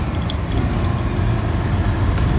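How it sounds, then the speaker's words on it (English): A motorbike's loud, low engine rumble drones steadily close by beneath Melbourne Central at night, with a brief metallic jingle near the start. "That motorbike is so noisy."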